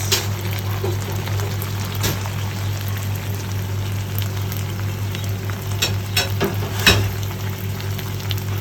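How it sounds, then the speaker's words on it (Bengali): Small river fish fry in oil in a pan with a dense, steady sizzle, close and loud, broken by a few sharp crackles and spoon scrapes. "এই আমাদের গুঁড়া মাছটা খুব সুন্দর করে ভাজা ভাজা হয়ে গেছে।"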